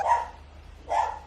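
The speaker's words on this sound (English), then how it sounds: "Excuse my dog." Dog barking indoors, two sharp barks about a second apart, fairly close and clear against a quiet room.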